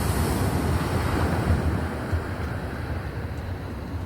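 Ocean surf rolls onto a beach at Whiskey Bay in Sri Lanka as a loud, continuous wash of breaking waves mixed with gusty wind noise on the microphone, with no talking.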